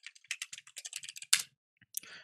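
Computer keyboard keys are typed in a quick run of crisp, close clicks, then a pause and a few final taps.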